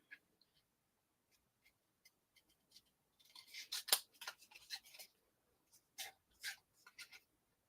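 Scissors trimming fine detail on a paper craft piece, a scatter of small crisp snips and rustles, sparse at first and then a denser run of close cutting before a few final isolated snips.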